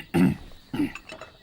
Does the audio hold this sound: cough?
yes